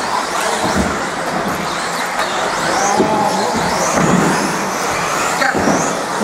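1/10 scale off-road RC cars race around a dirt track, their high whining electric motors buzzing and sweeping past in overlapping passes, continuous and fairly loud against an outdoor crowd hum.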